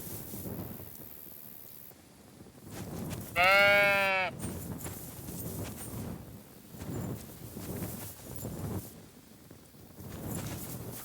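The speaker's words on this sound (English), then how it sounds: "This must be the lost ram." A lost ram bleats once, loud and close, with a wavering nasal cry lasting about a second in Kingdom Come Deliverance 2, set against a steady outdoor wash like rain and wind.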